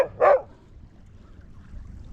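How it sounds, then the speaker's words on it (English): A dog on a boat during a winter catfish fishing trip gives two sharp, close yaps at the start, followed by a low idling hum. "The dog is yappy because he's in park."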